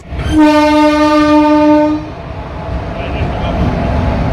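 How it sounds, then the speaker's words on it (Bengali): A loud train horn blares for about two seconds close by, followed by the steady rumble of rail cars rolling past. "কত বড় ট্রেন দেখেছিস দেখলি"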